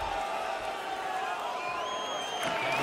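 Arena crowd murmur and buzz in the NHL 22 ice hockey video game on PS4, a steady, continuous roar with faint whistles and cheers rising through it.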